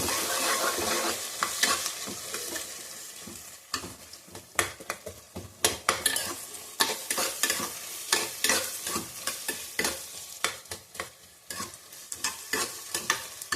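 Onions and green chillies hiss in a hot pan for carrot rice while a spoon stirs them in quick, irregular scrapes and clatters, close and clear with no voices.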